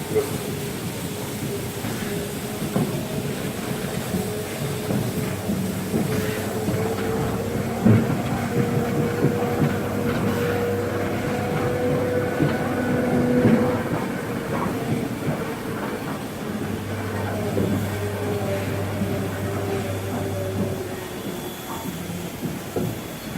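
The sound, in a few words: steam train shunting at a station, railway festival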